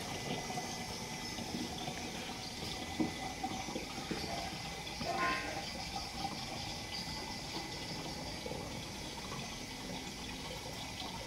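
Water filling a tank to about half, heard as a steady, continuous rushing and gurgling flow of moderate loudness with no pauses and no talking.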